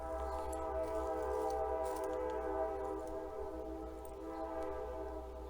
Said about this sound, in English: Dang, they're running 2 trains today.